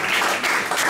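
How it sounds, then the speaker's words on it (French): Short burst of congregation applause in a church, a dense, even patter of many hands clapping, loud and close, with no talking over it. "On les applaudit encore une fois, merci."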